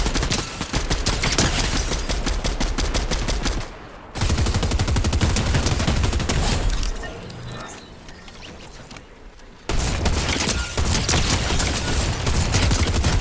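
Laser gun in a video game firing in long, rapid bursts of sharp repeated shots, loud and close, with brief pauses between volleys.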